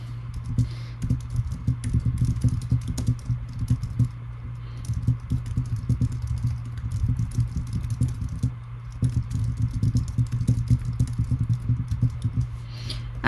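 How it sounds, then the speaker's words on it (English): Steady typing on a computer keyboard, a close run of rapid light key clicks with a few short pauses over a low background hum, no talking. "I'm going to type a message into them."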